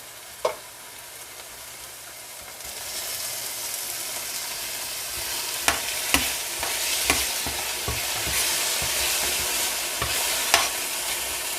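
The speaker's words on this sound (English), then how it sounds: "I'm just gonna allow that to saute just a little bit." Vegetables sauté in a hot pan for an ackee breakfast. A steady, close frying sizzle runs throughout, brightening after a few seconds, with several sharp pops and clinks of stirring scattered through it and no talk.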